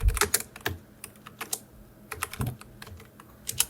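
Fingers type on a computer keyboard in quick irregular bursts of close, crisp key clicks, with short pauses between bursts and no speech.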